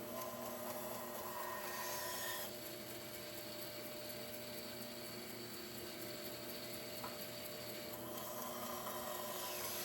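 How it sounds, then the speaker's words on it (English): A bandsaw runs with a steady mechanical whir and hum while cutting the corners off a cherry wood bowl blank, and the tone shifts partway through as the blade bites into the wood. "cut the corners off, being very careful not to cut my fingers off"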